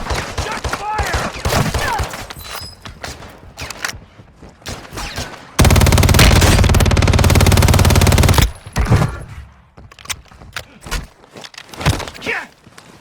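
Sustained burst of automatic gunfire in the Warzone battle royale game on the Verdansk map, a loud dense volley lasting about three seconds amid scattered game noise and footsteps.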